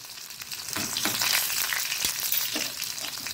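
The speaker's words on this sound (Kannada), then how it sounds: "ಎಳೆಗಳಷ್ಟು ಬೆಳ್ಳುಳ್ಳಿಯನ್ನು ಹೀಗೆ ಗುದ್ದಿಕೊಂಡು ಇದರಲ್ಲಿ ಹಾಕೊಳ್ತಿದ್ದೇನೆ. ಅದು ಒಳ್ಳೆ ಬ್ರೌನ್ ಕಲರಿಗೆ ಬರಬೇಕು." Crushed garlic cloves fry in hot oil in a pan while sambar is being made, giving a steady close sizzle with a few soft stirring scrapes.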